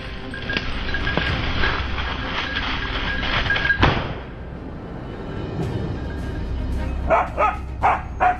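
Hunting dogs bark repeatedly at a trapped wild boar in rugged terrain, loud and close, with a dense stretch of barking early and sharp, spaced yelps toward the end.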